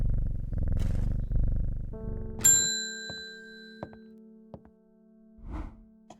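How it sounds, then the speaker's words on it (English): A cat purrs as it is petted in the video game Strange Horticulture, a low rumbling purr for about two seconds, followed by a bright chime and a few ringing ding tones. "Petting the cat."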